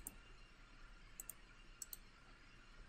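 Computer mouse clicks while working in the Construct 3 game editor, a few quiet, crisp clicks in small pairs, close and alone over a faint hiss.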